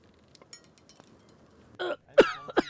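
A person coughs a few times in quick succession, with short, sharp, close bursts near the end after a quiet start.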